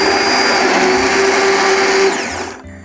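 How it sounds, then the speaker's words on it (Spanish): A hand blender whirs steadily while pureeing a chestnut and mushroom cream, a loud continuous motor whine that winds down and stops near the end. "aparto del fuego y trituro con la batidora. Pues ya estoy triturando."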